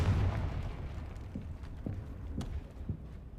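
A Confringo explosive spell going off in the video game Hogwarts Legacy, a heavy low boom at the start followed by a few quieter crackling bursts at moderate distance.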